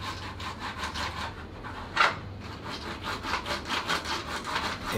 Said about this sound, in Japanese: 添え木をカットしていきます。